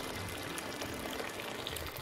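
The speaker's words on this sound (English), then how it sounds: "you will pour the fresh boiling steaming water into the bucket." Freshly boiled water poured from a kettle into a bucket, a steady broad rushing splash that holds evenly for the whole two seconds with no talk over it.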